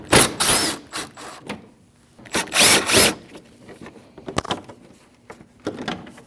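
Power tool spinning out 8 mm bolts on a 2014-2023 Jeep Cherokee 2.4L during alternator replacement, loud close whirring bursts with ratcheting clicks, separated by pauses and small metallic handling noises.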